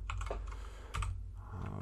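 Quick bursts of typing on a computer keyboard, the key clicks close and crisp with brief pauses between runs.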